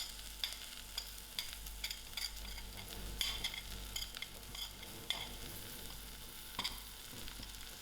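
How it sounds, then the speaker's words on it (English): Shepherd's pie filling fries in a pan with added spices and mixed herbs, giving a steady close crackle under scattered clicks and scrapes of stirring throughout. "allow this to fry a little"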